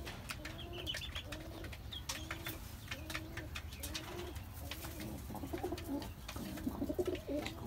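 Pigeons coo in a rooftop coop where new chicks have just hatched. Repeated low, rolling coos come in a steady rhythm at close range, with faint chirps and clicks over a constant background hum.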